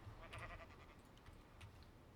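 Sheep in the video game Minecraft bleating, a few short faint bleats close by over quiet game ambience, with no talking.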